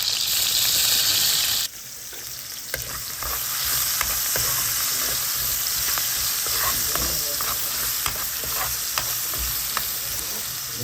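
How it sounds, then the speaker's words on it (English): Onions fry in a pan with a steady crackling sizzle that drops briefly, then resumes with scattered pops and stirring clatter over a continuous hiss. "So we're frying up some onions, everyone."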